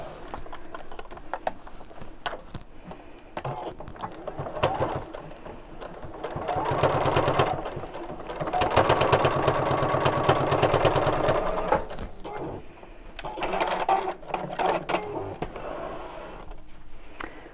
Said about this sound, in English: Okay, and again sew within the seam allowance.